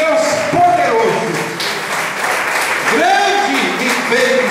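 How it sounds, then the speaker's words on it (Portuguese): Church congregation applauds steadily during a worship service, sustained clapping under a preacher's loud voice and sung or shouted phrases. "Aplauda o nome de Jesus"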